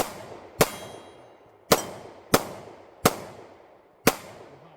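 Five sharp gunshots with ringing metallic clangs from steel targets at a practical shooting match, spaced irregularly about a second apart, fairly near and loud with no talk over them.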